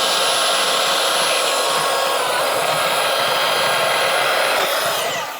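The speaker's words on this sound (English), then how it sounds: "the bandsaw is probably the cleanest and quickest." Bandsaw cutting house wrap makes a loud, steady high whine and rushing hiss that holds unbroken from start to finish, up close.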